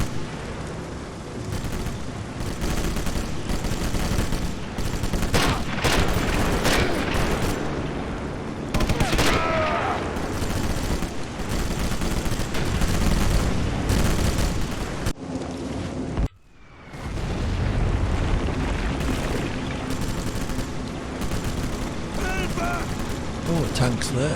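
Sustained gunfire and heavy battle noise from the World War II sniper game Sniper Elite, dense volleys with booming blasts near a tank, continuous and loud with a brief drop to near silence midway before resuming.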